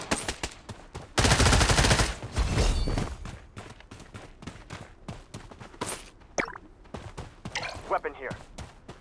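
Gunfire in the Blood Strike shooter game: loud rapid automatic bursts, a sustained volley early on, then scattered single shots and shorter bursts, with game voice callouts over the top.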